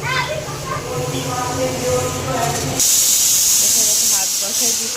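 Pressure cooker with rice letting off a loud, steady steam hiss that bursts in partway through, while voices talk in the background beforehand.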